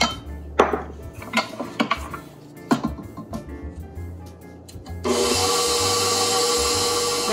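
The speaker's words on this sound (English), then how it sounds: "go ahead and scrape down the sides of our bowl so that all that flour can get incorporated" A spatula scrapes around the sides of a stand mixer bowl holding pull-apart bread dough, with scattered knocks and scrapes. Then a loud steady mixer motor whir starts up and carries on to the end, close by, no voices.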